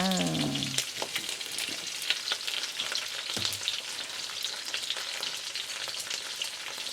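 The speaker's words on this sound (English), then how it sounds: "So my garlic getting brown already. I'm gonna put the pork belly in." Pork belly, garlic and shrimp frying in a pan, a loud steady sizzle with crackles and stirring scrapes throughout, close and continuous, with no talking.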